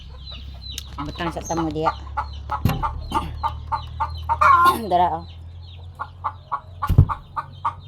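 Laying hens cackle at a rural home, a run of sharp repeated clucks and squawks in an uneven rhythm, close by, while a person talks over them.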